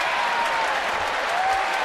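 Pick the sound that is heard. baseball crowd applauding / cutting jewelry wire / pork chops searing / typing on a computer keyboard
baseball crowd applauding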